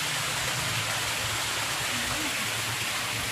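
Strong stream water at a resort in Laguna rushing in a steady, loud broadband roar that fills the whole clip, close by and unbroken, with a faint voice barely surfacing beneath it.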